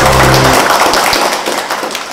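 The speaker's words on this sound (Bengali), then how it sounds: "আর একবার হাততালি।" Audience applause at a company event: a dense, loud wash of clapping that fills the full two seconds, with a low hum at the start fading out.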